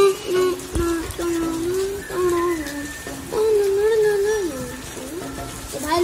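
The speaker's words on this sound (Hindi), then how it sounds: "तो भाई लोग बहुत बारिश हो रही है." Heavy rain pours down in a steady, loud hiss of falling water while someone talks over it throughout.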